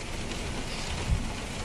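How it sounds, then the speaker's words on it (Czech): Steady rain falls outdoors at a festival campsite, a dense, even hiss of drops with one brief low thump partway through and no voices. "mě mrzí, že prší"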